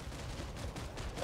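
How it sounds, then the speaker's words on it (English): Gunfire in the online shooter PlanetSide 2, a dense crackle of shots that stays steady and fairly loud through the moment with no voices. "I hear gunfire."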